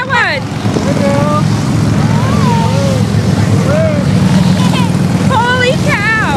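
Many motorcycles ride past in a passing procession, a steady loud engine drone with wind rumble and a horn, while people talk and exclaim over it.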